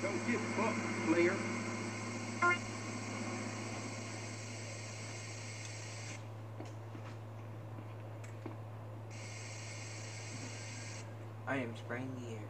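Spray paint can hissing in GTA San Andreas, two steady bursts of hiss, one lasting several seconds and a shorter later one, over a constant low background hum with brief talk.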